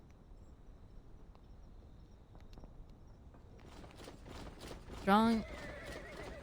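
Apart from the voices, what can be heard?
horses stamping and neighing in the video game Reverse: 1999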